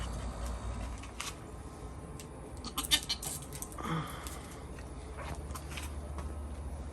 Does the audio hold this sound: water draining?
no